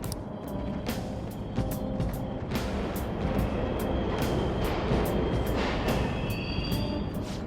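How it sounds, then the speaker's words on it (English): Subway trains running in the Mementos tunnels of Persona 5 Royal, a continuous loud rumbling rattle of rail cars with rhythmic clacks and metallic squeals, sustained throughout without talking. "The trains are totally running!"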